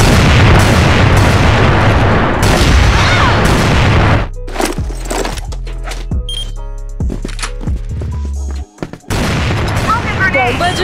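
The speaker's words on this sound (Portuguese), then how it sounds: "Bomba de fumaça!" A smoke bomb goes off amid loud booms and gunfire in an intense shooter video game, with a series of sharp thudding impacts in the middle and a dense, noisy battle din before and after.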